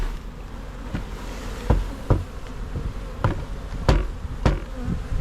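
Agitated bees buzz in a dense, continuous drone close by as a beekeeper makes a split, with scattered knocks and taps on the wooden hive cutting through.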